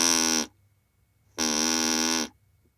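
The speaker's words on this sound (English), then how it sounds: "The reed-type sound source sounds like this." The reed-type sound source of a VTM-S20 vocal-tract model gives two buzzy, harmonic-rich tones, a short one and then a longer one, each with an abrupt start and stop and silence between.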